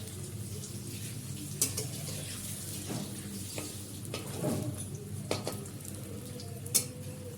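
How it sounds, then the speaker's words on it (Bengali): Soybean muitha dumplings frying in oil until reddish, giving a steady low sizzle with occasional clinks and scrapes of a utensil in the pan; faint, no speech. "সেগুলো একে একে একটু লাল লাল করে ভেজে নিতে হবে"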